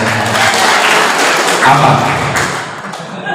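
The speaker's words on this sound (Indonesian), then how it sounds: "Kok tepuk tangan?" An audience at a formal installation ceremony claps in a brief, dense burst mixed with thumps and background voices, fading toward the end.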